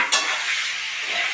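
Boiled peas and fried potatoes tossed into spices frying in oil, giving a loud close sizzle and hiss that flares at the start and then holds steady, with light stirring and no voices.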